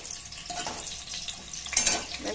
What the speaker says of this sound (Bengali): আলুগুলো লাল লাল করে ভাজা হলে উঠিয়ে নেব।